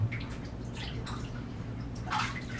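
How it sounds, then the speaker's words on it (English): Water rinsing a freshly shaved leg in a bathtub, with soft splashes and drips over a quiet running-water background. "After the shave, go ahead and rinse the leg, checking for anything you could have missed,"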